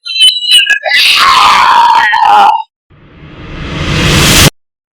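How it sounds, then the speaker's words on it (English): A cartoon monster in an animated fairy tale lets out a loud, frightened shout with groaning, screaming tones, followed by a rising whooshing rush of noise as it flees. "the monster got frightened and just shouted"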